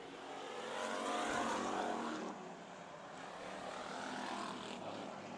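Dirt track stock car, number 38, roaring down the back straightaway at a Bakersfield stock car race, a loud sustained engine drone that swells and eases slightly as it passes, with no talk over it.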